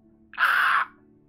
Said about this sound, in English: Is that what a crow sounds like?